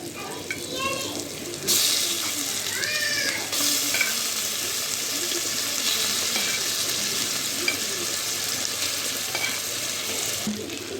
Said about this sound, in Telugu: బాగా వేగినాయి కదా, చికెన్ వేస్తున్నాను.